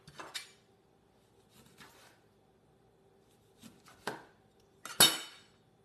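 A knife slices through a lemon on a cutting board in a few separate cuts, each a short crisp scrape ending in a tap on the board. The cuts are close and fairly quiet, with silence between them.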